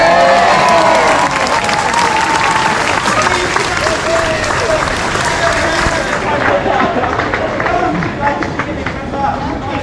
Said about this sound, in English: You better bloody clap.